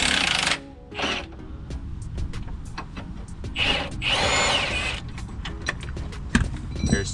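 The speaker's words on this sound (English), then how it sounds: "We got our wrench on there, so we're gonna take off the two bolts that connect the spindle to the strut." A power tool whirs in short bursts, removing the spindle-to-strut bolts on an Acura RSX suspension, with intermittent close mechanical revving and clicks.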